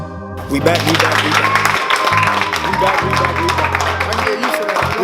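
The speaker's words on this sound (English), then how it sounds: "can y'all clap one more time real quick? Clap one more time." Audience clapping and applause at a live graduation-edition show, a steady wash of many hands under music with tonal notes, continuing through the whole stretch.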